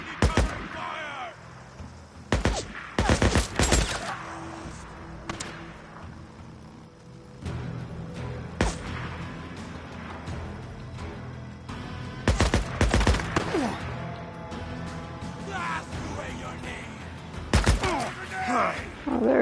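Covering gunfire in the video game Days Gone, repeated sharp bursts of automatic fire and single shots with thuds, loud and close, scattered across game ambience and someone talking.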